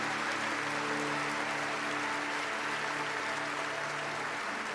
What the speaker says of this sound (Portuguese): Aplauda o mais forte que você puder.